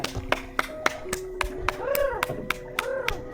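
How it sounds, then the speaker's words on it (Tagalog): Hands clapping in a series of sharp, separate claps outdoors at night to make fireflies light up on Siargao, with people talking between and over the claps. "pinapalakpakan yung mga fireflies kasi dun sila umiilaw"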